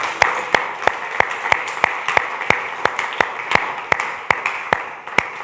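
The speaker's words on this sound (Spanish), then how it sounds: "Dele un aplauso al Señor, por favor." A church congregation clapping in unison, loud sharp claps in an even steady rhythm, roughly three per second, over a low murmur of the hall.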